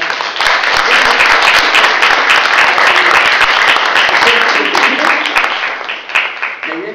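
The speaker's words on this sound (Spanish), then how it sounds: "Quiero darle un gran aplauso nuevamente a Susana" An audience at a literary talk breaks into loud, dense applause that holds steady for several seconds and then thins out toward the end.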